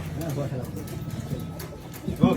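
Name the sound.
pigeons cooing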